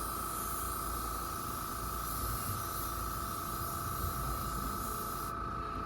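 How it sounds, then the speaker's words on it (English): A spray can or airbrush hisses steadily while weathering paint goes onto the underbody and trucks of a Bachmann 1:20 scale model caboose. The hiss is close and continuous for several seconds, then cuts off abruptly. "And spray along up on there in here."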